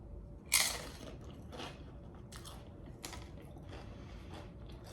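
Crunchy bites and chewing while eating a smoked Gouda dip with chili and pepper, a few close, sharp crunches in a quiet room with no talking.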